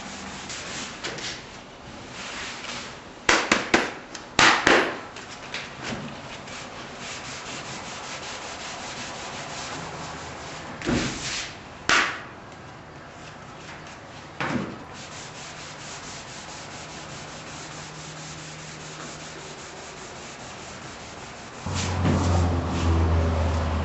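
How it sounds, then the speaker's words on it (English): Sandpaper folded over a flexible stick rubs back and forth across primed auto body panels, a steady dry scraping with a few louder bursts and longer strokes, close and alone. "As that sandpaper becomes clogged, you know, with primer, I just unfold it."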